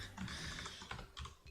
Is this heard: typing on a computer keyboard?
yes